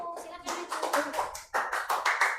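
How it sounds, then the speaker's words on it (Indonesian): Students in an elementary school classroom applaud a group about to present, giving a short burst of dense, uneven clapping that sounds close and busy and stays lively throughout. "Tepuk tangan buat kelompok 1"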